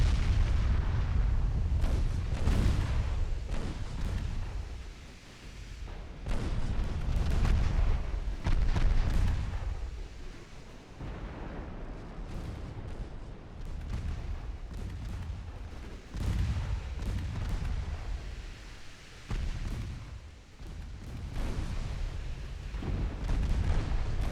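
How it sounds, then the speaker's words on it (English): Naval secondary guns open fire on a transport in the warship game Ultimate Admiral: Dreadnoughts, a steady run of heavy booms and thuds overlapping one another with constant rumbling throughout, loud with no voices. "My secondary guns have now started opening up on the transport."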